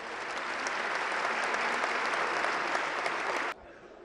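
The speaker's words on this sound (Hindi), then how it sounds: "तालियां एक बार जोरदार बनती हैं।" A large crowd at a Jain religious memorial gathering breaks into loud, sustained applause. The clapping stays dense and even for about three and a half seconds, then cuts off abruptly.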